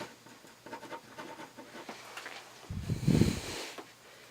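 A label is written onto a French seam in fabric, shown as light scratchy pen strokes in short bursts, ending with a louder rustle of handled cloth. Close and quiet, with no voices.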